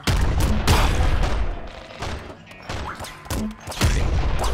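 Grenade explosions in Nuclear Throne come as a rapid run of heavy, loud booms and thuds in quick bursts, with short pauses between volleys.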